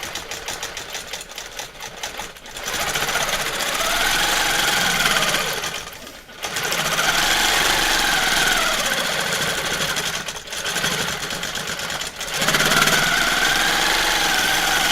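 Sewing machine free-motion quilting along a seam on a quilt, a loud, close, continuous mechanical whir running in long stretches with a few brief pauses.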